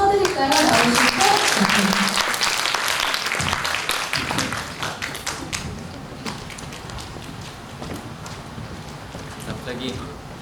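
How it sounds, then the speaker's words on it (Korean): A church congregation at a Sunday worship service claps, starting as loud, dense applause that gradually thins and fades into scattered claps and murmuring, with people talking underneath. "오랜만에 박수 한번 쳐드릴까요?"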